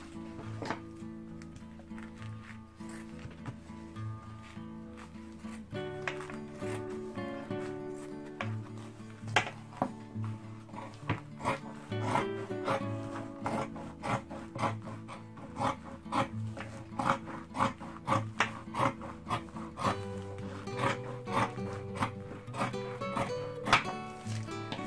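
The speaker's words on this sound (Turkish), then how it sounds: "Bunu da ikiye keseceğim." A leather fabric piece for a homemade rug is cut in two, heard as a steady run of close, dry rasping and snipping strokes that quicken into a sharper series of crisp cuts toward the end.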